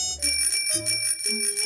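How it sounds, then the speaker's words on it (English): A cartoon scooter bell rings in a quick bright series of dings, clear and alone at close range, over a few musical tones. "my scooter bell."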